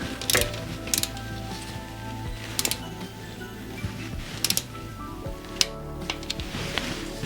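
A torque wrench ratchets as a new TDC sensor on an Alfa Romeo MiTo is tightened to 10 Nm, with irregular metallic clicks and small clacks close by in a quiet workshop.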